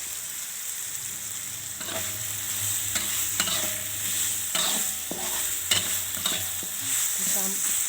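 Finely ground spice paste sizzles steadily in a pan while a spoon scrapes and stirs it in repeated strokes, cooked for a village-style jackfruit curry.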